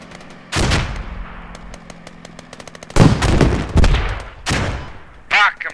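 Bursts of automatic and single-shot gunfire in the military shooter game Squad crack out in several loud volleys, some near and some farther off, with players talking over the radio between shots.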